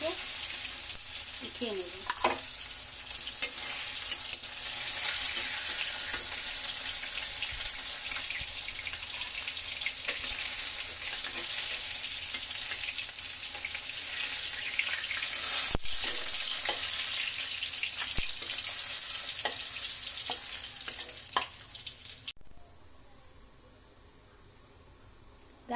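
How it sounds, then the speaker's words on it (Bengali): Fish for a bhuna curry fries in hot oil with a loud, steady, crackling sizzle that runs for over twenty seconds before cutting off abruptly, with a brief spoken comment from the cook. "মাছগুলো আমি ভেজে নেব"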